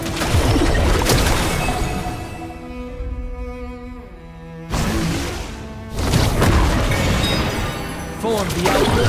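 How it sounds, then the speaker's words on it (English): A delayed magical detonation from the champion Hwei in League of Legends bursts with heavy booming crashes and whooshes, fading briefly before another loud surge of layered impacts. "The signature detonates after a short delay, dealing magic damage to all enemies in range."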